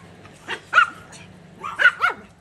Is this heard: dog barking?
yes